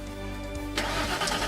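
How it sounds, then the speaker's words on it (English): A truck engine starting up in a visual novel game, a steady hum abruptly joined by a louder cranking catch and rough idle, with no voices. "He starts the engine and the truck tows the trailer along"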